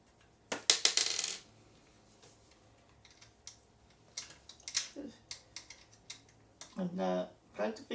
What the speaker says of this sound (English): let me put the screws in there.